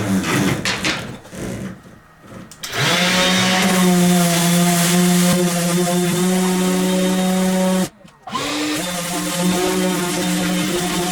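A power sander works on wooden dollhouse pieces with a steady droning whine that runs for several seconds, stops briefly, then starts again, with rattling handling noises at the start.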